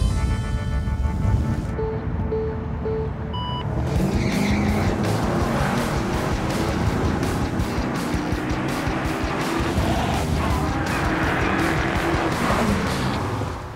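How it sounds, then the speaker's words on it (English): A 1994 Buick Roadmaster on old tires drives hard around a track, its engine roaring steadily while the tires squeal and skid in long stretches, loud and close throughout. "I told you these tires are old. Can't get any traction, these tires."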